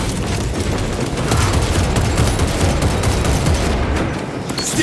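Dense, continuous gunfire in the video game Space Marine 2, a loud unbroken barrage of rapid shots and blasts filling the whole stretch with no clear talk.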